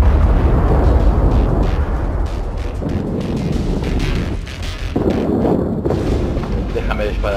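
Naval guns boom repeatedly in a World of Warships battle, heavy low rumbling blasts layered over wind and engine noise, with a voice speaking over the gunfire.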